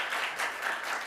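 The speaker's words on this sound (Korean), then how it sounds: "한번 감사의 박수 좀 했으면 좋겠어요" Applause for a church worship team at a Thanksgiving revival night service, a steady wash of clapping from the congregation filling the brief moment without a break.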